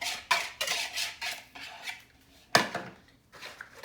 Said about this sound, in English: I'm going to combine it all together.